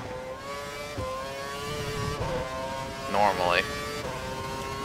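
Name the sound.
F1 car engine upshifting in F1 2012 video game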